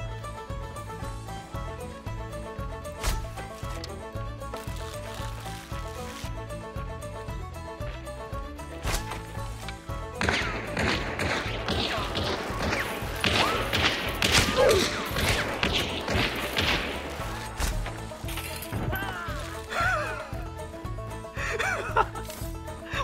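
Gun-stock melee strikes in Hunt: Showdown land as a string of dull thuds and clattering hits amid game noise, with players talking and laughing over the scuffle.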